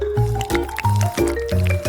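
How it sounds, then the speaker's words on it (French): A full jar of liquid jelly is shaken by hand, giving repeated wet, squishing sloshes in a steady back-and-forth rhythm, close and fairly loud. "Maintenant, je prends comme ça et je secoue tout bien."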